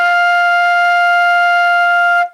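One long, steady F on a flute, clear and loud, held evenly and then cut off at the end, alone without any voices.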